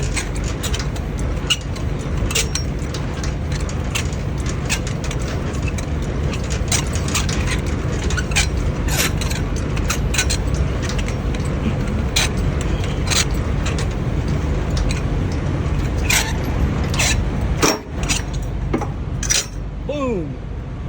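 Semi-trailer landing gear being cranked up by hand, a steady run of metallic clinks and ratcheting ticks over a constant truck idle rumble, close by, with speech over it.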